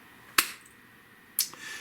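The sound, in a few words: hand clap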